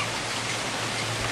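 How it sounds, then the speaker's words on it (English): Steady rain falls outdoors on a rainy day, a dense, even hiss of drops close by, with no voices over it for the brief moment. "it's raining here"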